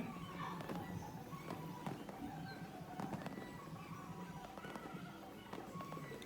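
Fireworks at Dubai Global Village, a string of faint, distant pops and crackles scattered over a steady crowd murmur and outdoor hubbub.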